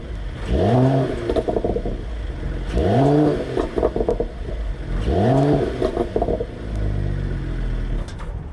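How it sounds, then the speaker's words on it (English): A 2020 Mercedes-AMG CLS 53 four-door coupe's exhaust, revved three times in a row, each sharp rising blip swelling then falling back to a low rumble, close and clear with no talk. "start the car and tell me what you think about the sound coming from the exhaust of this CLS 53 AMG"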